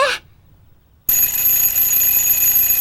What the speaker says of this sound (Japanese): お、目覚まし時計か。 ベルを叩いて音を出しているんだな。